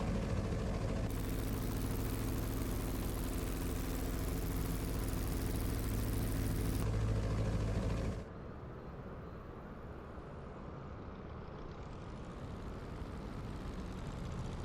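A Piper Cub J3C-65 engine in Microsoft Flight Simulator, throttled back to idle on approach, giving a steady loud drone that drops to a softer, lower idle hum partway through.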